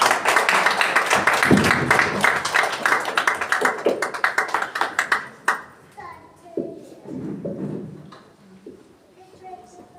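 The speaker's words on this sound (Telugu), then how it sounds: "మరి అందరూ చప్పట్లు కొట్టి" Church congregation clapping together in a dense burst of applause, with a few scattered claps trailing off as the clapping fades and a voice speaks briefly near the end.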